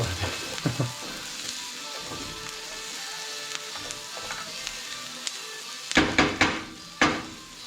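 Onions frying with star anise in a pan for a British Indian restaurant-style chicken bhuna, a steady close sizzle with a few sharp clatters of a wooden spoon against the pan near the end.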